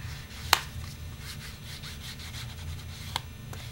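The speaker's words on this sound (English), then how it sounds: "you just rub it on the outside of your pocket" An ink pad of Tim Holtz Brushed Corduroy distress ink is rubbed onto the outside of a paper pocket, making soft, close scratchy rubbing strokes with a couple of faint taps.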